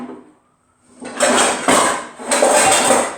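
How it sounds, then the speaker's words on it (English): A frying pan being pulled out of a kitchen cupboard, with loud metallic clattering and banging in two or three bursts after a brief quiet start, close by and with no talk over it. "I'll get my frying pan out"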